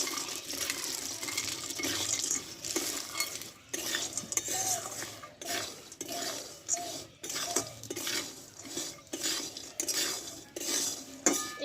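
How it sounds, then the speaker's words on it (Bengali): Peanuts are stirred in a pan, producing rapid rattling and clinking as nuts and a metal spoon scrape over the pan bottom, a faint sizzle underneath and irregular bursts of stirring throughout, with no talking. "আস্তে আস্তে আমি বাদামগুলোকে দিয়ে দেবো আর এইভাবে নাড়তে থাকবো"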